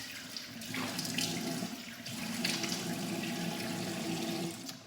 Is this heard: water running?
yes